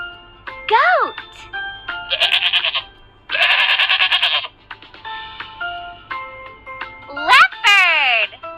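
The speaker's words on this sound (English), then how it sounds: "Goat." A goat bleats in a series of loud, quavering calls, several separate bursts with short gaps between them, clear and close with nothing else competing.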